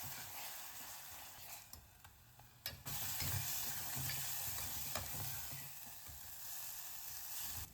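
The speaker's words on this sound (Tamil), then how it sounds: "லோ ஃப்ளேம்லேயே அந்த பேஸ்ட்டை அடி பிடிக்காமல் கொஞ்சம் நேரம் நல்லா வதக்கி விட்டுட்டு" Mint, shallot, ginger and garlic paste sizzle in hot oil over a low flame for chicken biryani, with a steady frying hiss and occasional scraping stirs of a spoon in the pan.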